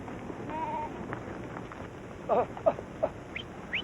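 Goats bleating nervously in Ladakh, a few short wavering calls in quick succession over a soft, steady outdoor background.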